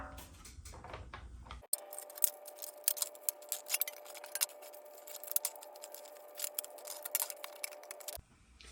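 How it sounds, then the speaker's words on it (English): Metal smoker sheet being snipped along a folded, overlapping edge, a run of sharp, irregular clicks and cuts close up over a steady faint hum, with quiet handling noise before and after. "If you get any overlap like this, just cut that off."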